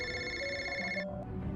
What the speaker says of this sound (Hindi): सीधा अपनी बिल्डिंग से बाहर निकलकर परेशानी वाली हालत में अपने दोस्त ऋषि को फोन करने लगा।